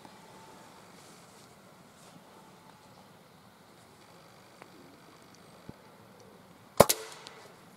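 A single sharp air rifle shot at a squirrel cracks out near the end, loud and abrupt after several seconds of faint outdoor wind and background hiss.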